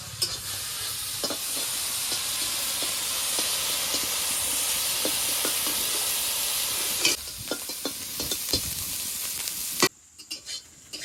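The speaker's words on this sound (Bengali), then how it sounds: "চিংড়ি মাছগুলো অল্প নেড়ে চেড়ে ভেজে নেবো" Shrimp fry in a kadai with a loud, hissing sizzle while a spatula repeatedly scrapes and clacks as they are stirred, the hiss dropping sharply near the end to leave a few sparse taps.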